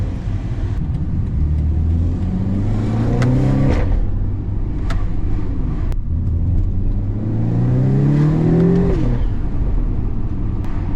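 A turbocharged car driving around town, its engine revving up and dropping back in two rising pulls with a steady low exhaust rumble and the hiss of the turbo. The engine is close and loud, with no talk.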